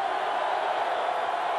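Football stadium crowd at a muggy night game between #1 Miami and #16 Iowa in 1992, a steady, distant roar of cheering and noise on third down and 15 that holds even throughout.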